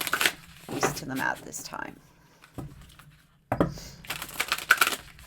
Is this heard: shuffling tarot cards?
yes